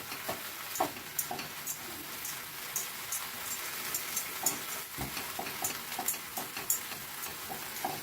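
Leafy greens frying in a pan and stirred continuously, giving a soft steady sizzle broken by irregular scraping clicks and taps from the spoon, close by with no talking.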